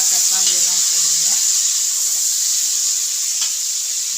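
Onions and spices, including cinnamon, sauté in a pan for mutton biryani with a steady bright hiss and sizzle, while a faint voice murmurs briefly at the start.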